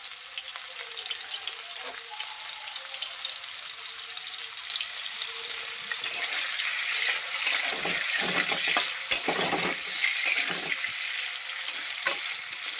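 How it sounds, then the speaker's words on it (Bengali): Pieces of homemade paneer fry in oil in a wok over a raised gas flame, giving a continuous bright sizzle. The sizzle grows slightly louder partway through, with scattered crackles and spits and no talking. "এখন পনিরগুলো আমি কড়াইতে দিয়ে দেব।"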